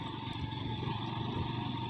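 Motorcycle engine droning steadily while riding, a close, continuous low rumble with a slight rhythmic pulse and no speech.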